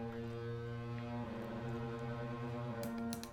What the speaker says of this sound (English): It is a 4-channel noise generator.